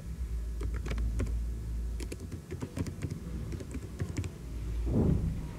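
An email address is typed on a computer keyboard while filling in a Blogger terms-and-conditions page form: scattered, fairly quiet key clicks in an uneven rhythm over a steady low room hum.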